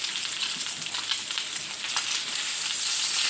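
Bacon sizzles and crackles steadily in a pan over a wood fire, a dense hiss with scattered pops throughout and no talking.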